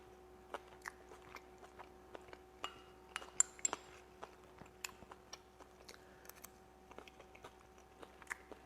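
Someone eats spoonfuls of namkeen camel meat from a karahi, with quiet close chewing broken by sharp, irregular clinks of a spoon against the dish over a faint low hum, and no one talking.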